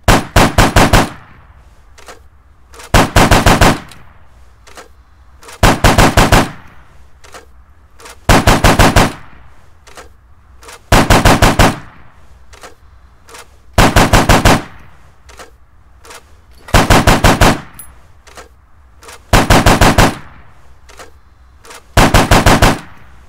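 12.7mm APDS rounds fired in the video game Arma 3 come in a steady series of about nine loud, sharp bursts spaced roughly every two and a half seconds, with quiet gaps between them and no talking.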